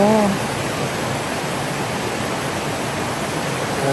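Taranaki Falls in New Zealand roars as a steady, broad rush of falling water heard from below the falls, with a brief voice at the very start and end.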